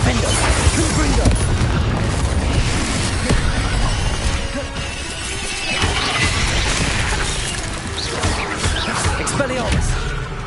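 Spell impacts from a Harry Potter wizard video game: a dense run of booming blasts and crashing smashes, loud and near, repeating without pause across the whole stretch.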